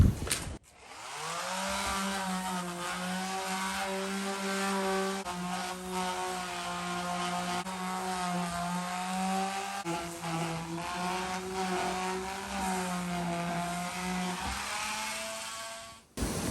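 A power sander works over stained wood, a steady droning motor whine with a slightly wavering pitch that runs continuously for about fifteen seconds before cutting off.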